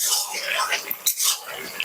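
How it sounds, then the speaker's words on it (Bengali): A spoon clinks and scrapes in a pot as sugar is stirred into bottle gourd shukto, a Bengali dish, producing light, irregular metallic taps close by, with a soft voice faintly underneath. "চিনিটা আমি ভালোভাবে এখন লাউর সাথে মিশিয়ে দেবো।"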